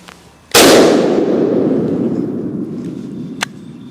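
A single loud, close shot from a Desert Eagle .50AE pistol cracks sharply and then rings out in a long, slowly fading echo, with a faint click near the end.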